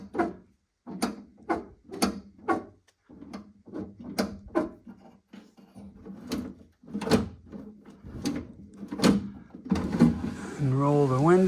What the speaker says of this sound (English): And roll the window, close the door, open the handle.